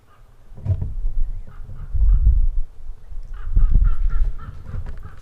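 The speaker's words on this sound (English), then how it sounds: "You hear those ravens over there?" Ravens calling outdoors on rural land, a few hoarse caws repeating at a moderate distance over a low background rumble.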